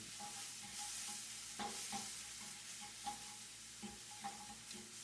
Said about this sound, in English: I'm going to quickly, while the pan's still hot, mix this in.